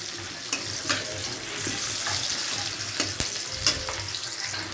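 Onion fries lightly in a pan for an onion-stalk curry, making a steady, fairly quiet sizzle scattered with small pops and ticks. No one speaks over it.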